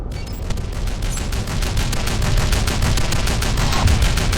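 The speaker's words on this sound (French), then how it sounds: "Et voici notre première arme, le pistolet WS P40" Rapid gunfire from the WS P40 pistol in the Shadow Complex video game, a dense stream of sharp shots in quick succession that stays loud and continuous throughout.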